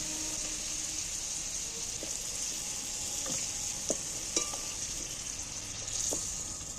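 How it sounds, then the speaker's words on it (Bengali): Potatoes fried alongside shrimp being lifted out of hot oil, a steady close sizzle with a few light scraping and clinking taps of a utensil against the pan. "এবার ভালো করে সুন্দর করে ভাজা হয়ে গেছে এইবার আমি তুলে নিচ্ছি"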